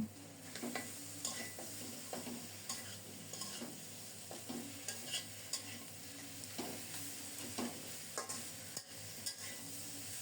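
A rohu fish head fries with spices in a pan, giving a continuous close sizzle broken by repeated stirring scrapes and utensil knocks over about ten seconds.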